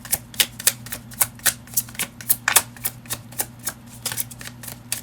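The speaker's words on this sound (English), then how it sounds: "You can fast forward this shuffling." Tarot cards being shuffled by hand, a steady rhythm of crisp riffles and taps repeating about twice a second over a low hum, with no voices.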